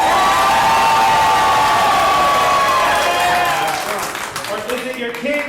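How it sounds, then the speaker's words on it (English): A large crowd cheers, whoops and applauds loudly, the roar gradually thinning into scattered clapping and shouts. "Audience, by your applause, how many of you think your winner are your challengers"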